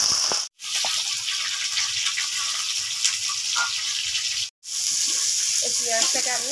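A piece of cardamom dropped into hot oil left from frying, a dense hissing sizzle broken by two abrupt cuts, a voice talking faintly beneath.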